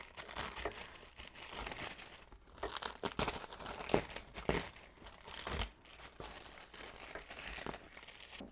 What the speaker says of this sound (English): So you can tear away the excess mylar